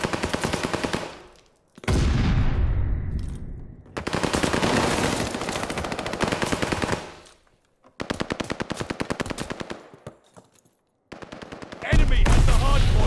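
Loud, repeated automatic gunfire in a Halo hardpoint match, long sustained bursts broken by brief pauses, with a sharp blast near the start and heavy impacts toward the end.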